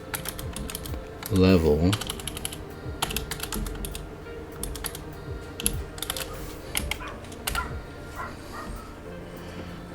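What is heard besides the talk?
typing on a computer keyboard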